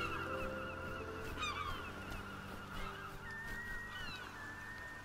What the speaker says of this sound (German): Die Möwen zwitschern.